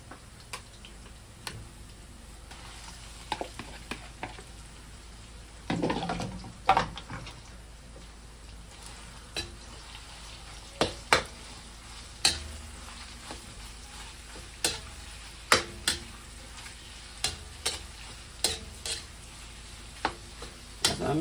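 Pork for a palabok topping fries in a pan under a low, steady sizzle. Scattered sharp clinks and taps of stirring come at irregular intervals throughout.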